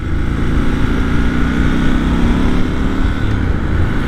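A Triumph Scrambler XC motorcycle engine pulling in second gear while riding on a busy road, a steady loud low drone with wind rush and no break across the few seconds.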